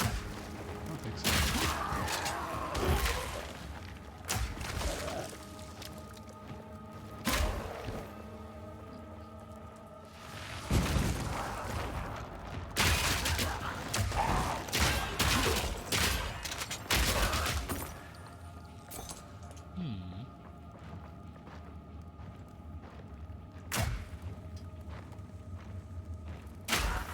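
Grenade explosions in Path of Exile 2, several sharp broadband bursts scattered through the clip among in-game thuds, clanks and footsteps, with a sustained bright impact near the middle.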